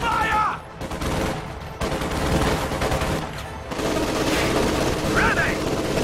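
Small arms fire in Company of Heroes 2 rattles steadily throughout in a continuous battlefield din of overlapping shots, with brief game voice callouts mixed in.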